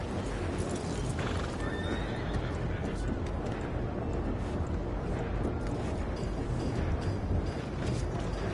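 In Red Dead Redemption 2, a horse whinnies up close over steady clip-clopping hooves and a dense game background.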